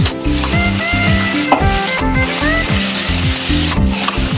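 Raw jackfruit frying in a pan for a Bengali prawn curry, a steady close sizzle with scraping stirs throughout, with no talking over it.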